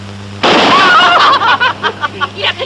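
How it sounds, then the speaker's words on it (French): A firecracker goes off with a sudden loud bang, followed by a crackling, fading burst and scattered pops. "C'est drôle quand ça pète un pétard."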